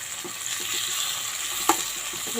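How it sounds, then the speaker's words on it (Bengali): Onion, tomato and green chilli fry in oil in a pan, giving a soft, steady sizzle with a light scrape of stirring, quiet and close with no talking. "দেখুন পেঁয়াজ টমেটো কাঁচা লঙ্কা অনেকটা ভাজা ভাজা হয়ে গেছে"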